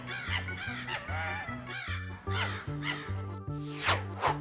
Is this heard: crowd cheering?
no